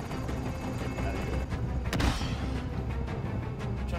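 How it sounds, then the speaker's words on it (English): Gunfire rings out in a Call of Duty Modern Warfare match, with one sharp crack standing out near the middle over a dense, noisy battle background. "I saw a sniper trying to fire at us."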